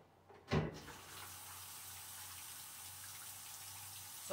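Water rushes from a tap after a sharp splash at the start, then flows steadily as a fingertip regulates the stream, soft and close in a quiet indoor space.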